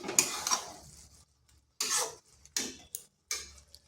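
A spoon stirs ghee through a vegetarian ridge gourd dish in a pan, making short, close scraping strokes in separate bursts with brief quiet gaps between them.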